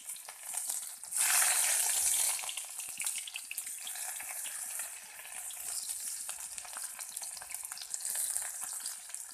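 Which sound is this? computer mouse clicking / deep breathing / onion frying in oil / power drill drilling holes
onion frying in oil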